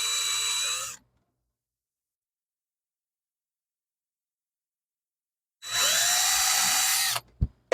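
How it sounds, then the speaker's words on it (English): Power drill boring pilot holes through sticky tape into a wooden box joint sled in a workshop, two loud whirring bursts separated by a long silence, close to the microphone. "Do our pilot holes right through the sticky tape."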